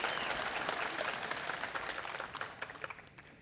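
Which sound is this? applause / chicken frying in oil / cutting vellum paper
applause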